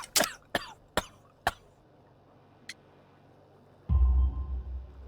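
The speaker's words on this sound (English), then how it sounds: "You have a severe cough." A man coughs in a game set in Victorian London, four sharp harsh coughs in quick succession, close and clear, followed by a quiet pause and a low rumbling noise.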